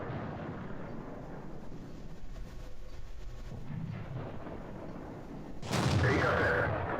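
A tank cannon shot booms in the World of Tanks video game over a steady rumbling engine and battle background, with a loud blast near the end.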